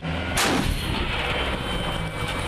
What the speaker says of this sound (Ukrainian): Цілодобово працює по окупантах самохідна артустановка Паладін